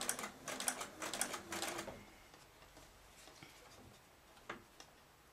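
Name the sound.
sewing machine stitching a curved seam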